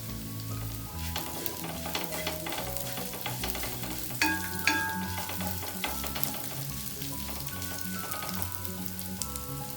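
Green chillies and curry leaves fry in hot oil for a fish head curry, giving a steady close sizzle with small crackles and occasional stirring scrapes throughout, with no talking.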